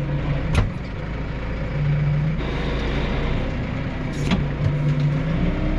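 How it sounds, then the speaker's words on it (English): A car approaches along a rural road near a farm where hay bales are being moved, a steady low engine rumble that swells gradually and holds throughout with no talking. "we got a car coming."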